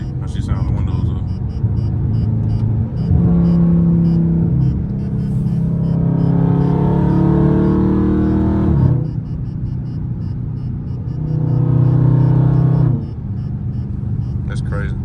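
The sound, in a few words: loud Scat Pack car engine, city driving, windows up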